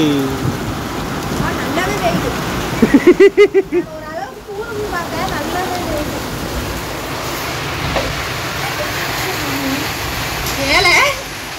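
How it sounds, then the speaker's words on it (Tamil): Heavy rain pours steadily in a village setting, a dense continuous hiss with a brief louder burst of knocking or rattling partway through, while people talk over it. "பாத்தீங்களா மழை எப்படி பெய்யுதுன்னு?"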